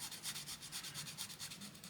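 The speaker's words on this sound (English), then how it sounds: "Not with this sanding stick anyway. I'm making hard work of it." A sanding stick rubs back and forth on a 1/16 scale M4A1 Sherman medium tank model kit, quiet close-up strokes in an even rhythm of roughly ten passes.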